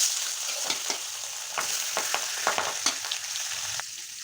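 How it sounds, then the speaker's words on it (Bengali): Pieces of katla fish fry in hot oil in a pan, giving a steady close sizzle with repeated sharper crackles and spatters over about four seconds, no voices. "এখন আমি মাছগুলো দিয়ে দেব"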